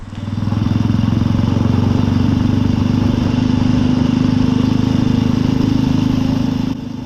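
A pre-war 1930s motorcycle engine runs steadily at a close, loud, even idle with a throbbing low pulse, holding constant for several seconds before dropping slightly at the end.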